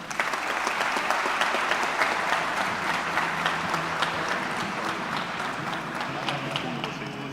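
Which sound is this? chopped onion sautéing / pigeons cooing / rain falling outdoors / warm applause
warm applause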